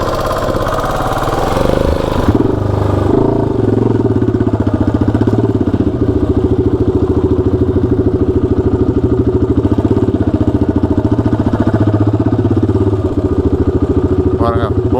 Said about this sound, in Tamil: வார்ம் அப் பண்ணிடலாம் வண்டியை.